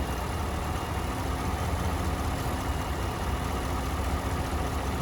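Idling 6.2L V8 in a 2016 GMC Yukon XL with a misfire, a hydraulic lifter starting to rattle under a steady, close engine drone with faint ticking throughout.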